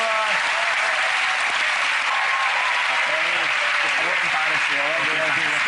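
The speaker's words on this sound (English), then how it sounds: "Give Kenny a round of applause for..." Loud, sustained applause from a television magic show studio audience, dense clapping filling the whole stretch with faint voices mixed in.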